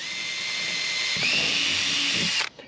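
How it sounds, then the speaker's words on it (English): A high-pitched drill with a 1/8-inch bit whines steadily, its pitch shifting as it bites into a kayak rear deck, then cuts off abruptly near the end. "I'm gonna go 1/8 drill bit."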